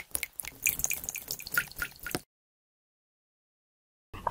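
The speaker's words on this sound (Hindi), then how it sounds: "लेमन का रस इसमें डालेंगे।" Lemon juice dripping and trickling into a weight-loss drink, a quick series of close, small splashes followed by silence and one brief knock at the end.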